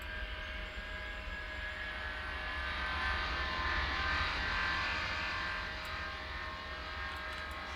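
Airliner taking off from the runway at St. Thomas airport in Tower Simulator 3, a steady jet-engine roar with a high whine that swells toward the middle and then eases, heard alone at moderate distance.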